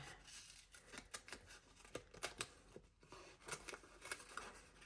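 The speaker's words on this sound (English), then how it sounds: "I'll just take my scissors and go all the way around" Scissors cut around a paper circle for a handmade Christmas card. Crisp snips come in a quick, uneven series at close range, and no one speaks.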